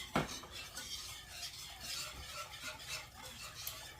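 A whisk clatters quickly and steadily around a pan of Mongolian chicken sauce as thickener goes in, light metallic scraping with one sharp knock at the start, faint and close.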